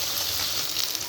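Fish frying in hot oil for a curry with tomato, giving a steady, close sizzle that holds even throughout with no speech.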